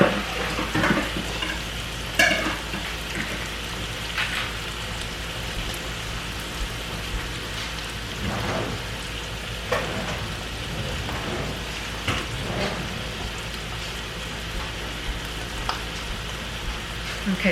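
Vegetables frying in a pan for shrimp fried rice give a steady close sizzle with a few stirring scrapes and clatters, no talk over it.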